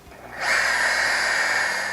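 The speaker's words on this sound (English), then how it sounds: "I'm now using a coarse foam pad with some compound on it, and I'm going to buff out the scratches" A power polisher with a coarse foam pad and compound buffs out scratches, spinning up and running with a steady whirring hum and a broad buzzing whine, loud and close, sustained without pauses.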